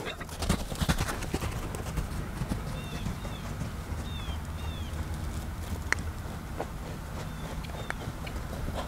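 Young horse loping in a round pen, steady rhythmic hoofbeats on soft ground throughout, moderately near, with occasional bird chirps in the background.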